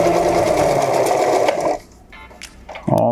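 A sewing machine stitches down the pocket opening of an adjustable fabric face mask, running in one steady continuous whir for under two seconds, then stopping briefly before starting up again near the end.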